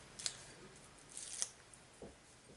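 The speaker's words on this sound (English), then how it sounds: "sometimes I do like to fussy cut them out" Scissors snip around stamped paper images for card making, a few quiet, separate cuts with small rustles of paper between them, close and soft.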